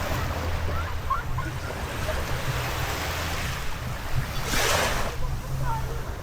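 Calm ocean waves wash onto a beach at Boracay, a steady broadband surf hiss with one louder breaking swell midway, mixed with wind buffeting the microphone.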